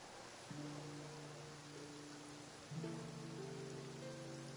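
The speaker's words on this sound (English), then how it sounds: "It's raining." Steady rain hisses as a continuous broadband wash in the Fontaine region of the video game Genshin Impact. Sustained musical tones from the game's soundtrack play over it.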